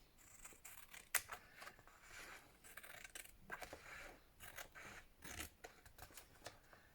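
Scissors trimming fabric or paper on a stitched house planner project, giving quiet, close snips and rustles in an irregular sequence with no talking.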